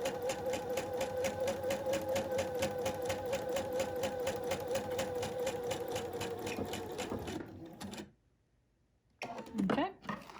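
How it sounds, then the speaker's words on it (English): A sewing machine back-stitches a fabric face mask, a loud, close, rapid rhythmic chatter running steadily for about seven seconds, then stopping, followed by silence and a short rustle. "we're just going to back stitch a little bit here"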